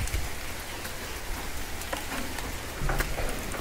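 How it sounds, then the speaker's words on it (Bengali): Heavy rain pours steadily outside near a pigeon house, a dense, even hiss of drops striking surfaces with a few louder splatters, no voices. "আজ এই বৃষ্টির ভিতর বাইরের কোনো আপডেট দিতে পারবো না"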